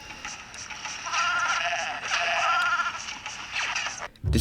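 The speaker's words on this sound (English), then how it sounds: "every sound in the game is replaced with a sheep sound" Sheep bleats replacing the game sounds in the Game Boy Advance Lego Star Wars game, a run of nasal, wavering bleats repeated over a few seconds, fairly quiet and alone.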